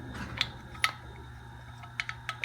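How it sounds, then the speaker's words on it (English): An electrical connector twists into place on a Taco hot water circulator pump, giving a few faint, sparse plastic clicks and ticks spaced irregularly against a quiet background. "So I'm just gonna twist this into place"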